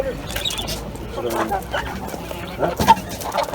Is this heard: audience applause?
no